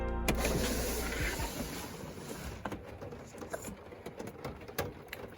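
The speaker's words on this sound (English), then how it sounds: "Oh, it's really raining this morning, Savs." Rain patters steadily on a camper van, a dense, close spray of drops with sharper ticks and taps scattered through it.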